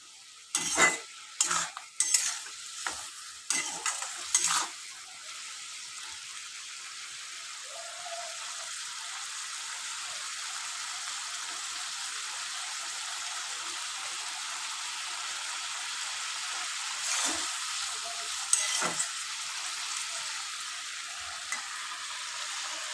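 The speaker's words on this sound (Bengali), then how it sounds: "মশলাটা একটু কষে আসুক" Masala spices for a rohu fish curry with potato and pointed gourd sizzle steadily in a hot pan, opened by several sharp metal spoon scrapes and stirs, then a long even fry with occasional clinks.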